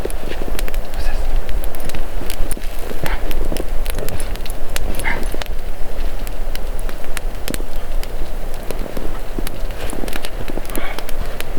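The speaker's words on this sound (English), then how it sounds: "he's a happy little puppy to be playing fetch" A puppy barks, yips and runs around playing fetch in snow at a winter bushcraft camp, with repeated close barks and scampering over steady outdoor background noise.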